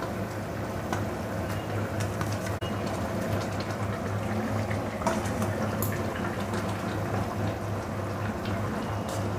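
Spiced curry broth for koi fish with green banana boiling in a pot, a steady bubbling and simmering wash with a low hum beneath and occasional faint clinks.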